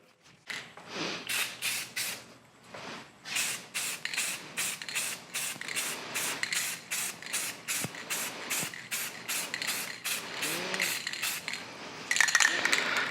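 Short repeated bursts of Rust-Oleum Stops Rust satin protective enamel in navy sprayed from an aerosol can onto a Baldor grinder, hissing in a steady series of spurts, fairly close and moderately loud, with no talking.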